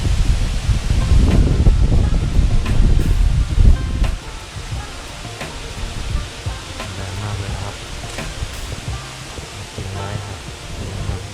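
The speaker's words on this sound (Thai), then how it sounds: "ลมแรงมากครับทุกคน" Strong wind buffets the microphone at a campsite in Kaeng Khoi, Saraburi, with heavy low rumbling gusts for the first four seconds, then lighter steady wind and rustling, and someone talking underneath.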